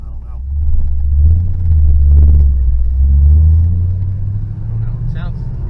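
A 1969 Pontiac Firebird engine rumbles steadily at low pitch, swelling slightly in the middle, with people talking over it.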